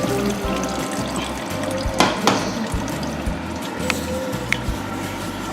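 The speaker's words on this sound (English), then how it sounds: "now I'm going to take my chicken broth here and pour it directly through the strainer" Chicken broth pouring and splashing steadily into a strainer, a continuous watery rush with a few sharper clinks and drips.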